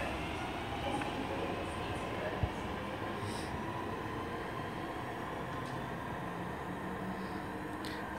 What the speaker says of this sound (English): Right, departing now, the 1347 to Redditch, originating Forex.